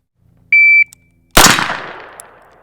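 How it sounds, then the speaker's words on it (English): An electronic shot timer at pistol shooting practice gives one short, sharp, high beep, then after a brief pause a loud single gunshot rings out and decays into echo. "I wasn't quite ready when the shot timer went off"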